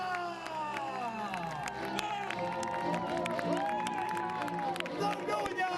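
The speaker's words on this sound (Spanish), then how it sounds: "¡Don Núñez, fuerte el aplauso!" A crowd at a medieval jousting tournament in Hospital de Órbigo, León, cheers and shouts for a knight, with scattered clapping and excited voices over open-air bustle, all fairly distant and moderate in level.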